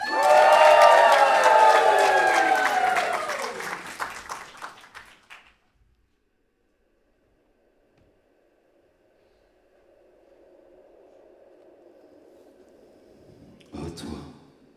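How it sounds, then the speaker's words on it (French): A crowd at a comedy talk show greets a mystery guest with loud cheering and applause that swells at first, then fades out into near silence, followed by a faint sustained tone and a brief burst near the end. "je vous prie de faire un tonnerre d'applaudissements pour notre prochain invité mystère"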